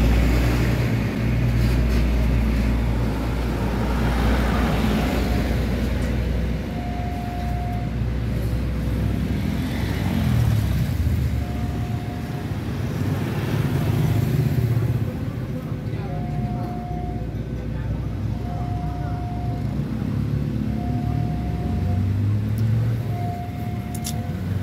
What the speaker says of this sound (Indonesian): Mobil ini putar balik.